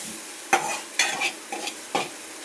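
Chana dal sautéed in a pan gives a soft hiss of frying, broken by four sharp scraping stirs spaced about half a second apart.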